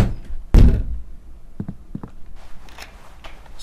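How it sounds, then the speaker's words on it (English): A door in the horror video game Knock Knock is struck or pushed: one heavy thunk, then a few sharp knocks and softer scuffing sounds, close and dry. "Try and open this bloody door."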